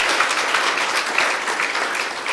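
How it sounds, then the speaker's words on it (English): Audience at a political lecture applauds in a steady, dense round of clapping, fairly loud and close, with no break across the stretch. "you can clap."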